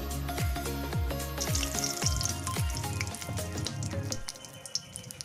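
Two chillies hit hot oil in a kadai, crackling and sizzling close by with a series of sharp, rhythmic pops and spits over a steady fry.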